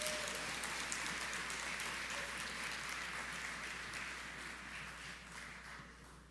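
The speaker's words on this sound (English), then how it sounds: "give a wonderful round of applause to the students from the C.I. Gibson as they render" An audience at a national honours and investiture ceremony gives sustained applause for performing students, a broad, even wash of clapping that tapers gently near the end over a low steady hum.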